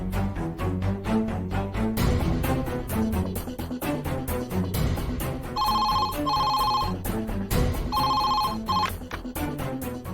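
A telephone rings during an outgoing call, sounding in two short bursts of bright ringing over continuous background music.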